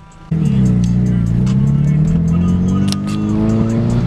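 An Acura RSX Type-S with a custom exhaust drives along, its engine note kicking in suddenly and holding a loud, steady droning hum close by that slowly rises in pitch.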